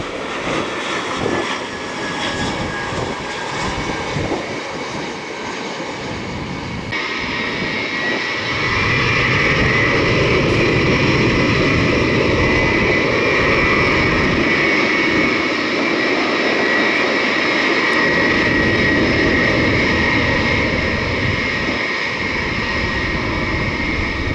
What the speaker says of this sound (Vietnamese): mời mọi người chiêm ngưỡng cái pha ồn ào của chiếc IL-76 này nhé